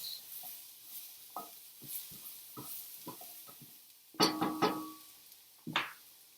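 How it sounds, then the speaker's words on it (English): Browning potatoes get stirred in a pan, giving quiet scrapes and soft taps, then a few louder clattering strokes near the end over a faint sizzle. "Let's just take another swirl at these potatoes."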